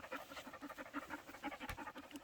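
Several puppies pant in quick rhythmic bursts close by during an outdoor walk with adult dogs, a steady breathy huffing with no talk.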